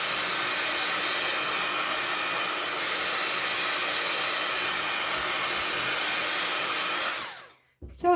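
A hair dryer blowing steadily to dry glue on a fabric journal page, a loud continuous whooshing hum that holds for about seven seconds before cutting off abruptly, then briefly starting again.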